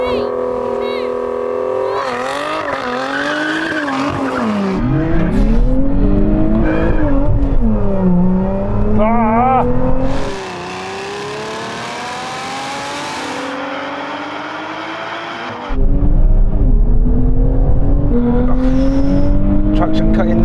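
A sports car launches hard at a drag race, its loud engine climbing steeply in pitch through several gears with sharp drops at each shift, sustained and close.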